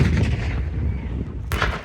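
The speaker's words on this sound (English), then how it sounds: "Shot fired straight away down towards the Jeep or what's left of it" Tank gun fire at a military vehicle firepower show, a sharp heavy blast bursting out late in the clip over a continuous low rumble of engines and distant battlefield noise.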